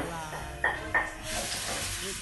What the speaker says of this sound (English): we'll just saute this onion for about 5 minutes. And the garlic as well. Right in the olive oil.